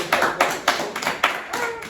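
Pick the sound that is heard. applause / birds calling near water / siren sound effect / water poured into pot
applause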